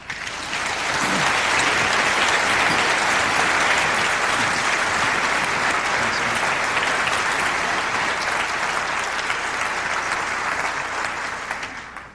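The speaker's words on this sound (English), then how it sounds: "it's really exciting to be able to come to MacWorld and be from Microsoft and actually get some applause" A large keynote audience at MacWorld 1998 applauds a Microsoft Macintosh business unit presenter, a dense, steady wash of clapping that holds loud for about twelve seconds with no talk over it.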